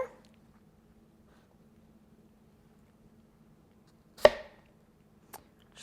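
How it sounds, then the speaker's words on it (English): Two or three sharp knife chops through apple and greens on a cutting board, spaced apart, after a long quiet stretch with faint background hum. "chopping that up a little bit again, just for the sake of fitting it all in the NutriBullet"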